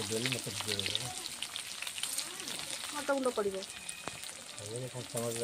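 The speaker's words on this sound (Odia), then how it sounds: "କଞ୍ଚା ଲଙ୍କା ପିଆଜକୁ ଆମେ ଭଲସେ ଭାଜି ନେବା ଲାଲ ହେଲା ପର୍ଯ୍ୟନ୍ତ" Onions sizzle in hot oil with mustard and cumin seeds in a kadai, a close, steady frying hiss, while a voice speaks intermittently over it.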